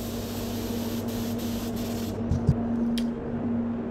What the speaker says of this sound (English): put the base coat straight on